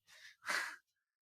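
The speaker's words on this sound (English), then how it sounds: "You made a cute little yawn." A small child just woken up gives a short, quiet, breathy yawn in two soft parts, heard alone.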